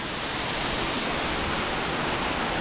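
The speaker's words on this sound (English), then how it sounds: "This is Tiger Fern Waterfalls. It's a double waterfall." Tiger Fern double waterfall in Cockscomb Basin, Belize, pours into a pool with a constant, even roar of rushing water and no pauses.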